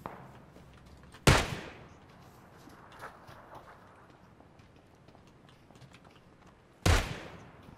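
Two sharp, loud gunshots from the PUBG battle royale game, one early and one near the end, each with a short echoing tail, separated by quiet ambient background with faint distant pops.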